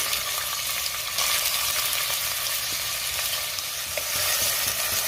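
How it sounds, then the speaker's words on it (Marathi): Chopped onion frying in hot oil in a pressure cooker for chicken masala gives a dense, steady, loud sizzle, with light stirring scrapes throughout and no voices. "तेल गरम झालंय, ह्यामध्ये आता मी कांदा घालते।"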